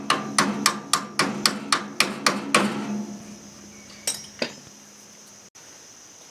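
Hammer tapping a bearing into the wheel of an older MTD mower, about ten sharp metallic taps in a quick, even rhythm, followed by two more spaced strikes. Close and clear, with no talking.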